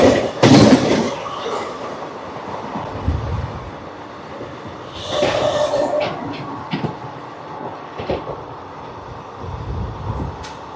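Ratnachal Express 12718 runs through Elamanchili station without stopping, its wheels clattering over rail joints amid rushing wind, with a couple of louder bursts as carriages pass close.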